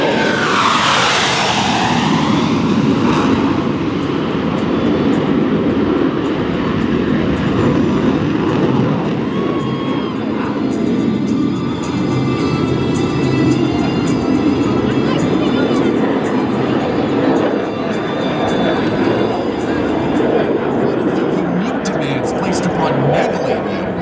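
2024 Blue Angels Navy and Marine Corps jets at the Cleveland National Airshow roar loudly overhead, a sweeping rush that swells at the start then settles into a sustained heavy drone with crowd noise.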